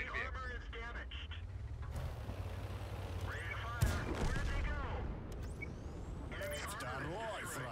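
Tank gun blasts from a Super Chaffee light tank in the online game World of Tanks, one sharp booming shot near the middle amid a busy battle din, with a Russian voice-over crew announcing things before and after.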